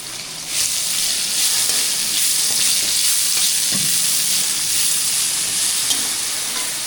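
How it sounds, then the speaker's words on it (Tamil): Green chillies and black pepper sautéing in a pan for a tomato-free vegetable dish, a loud, even, hissing sizzle running steadily with faint stirring underneath, close and without speech. "பச்சை மிளகா கருமிளகெல்லாம் நல்லா வதங்கிட்டு"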